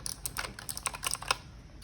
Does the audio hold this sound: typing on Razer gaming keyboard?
yes